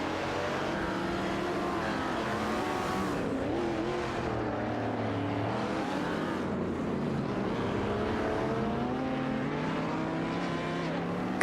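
AI-driven race cars in a racing game roar steadily around the track, engine tones rising and falling continuously at loud, close range with no pauses or talk.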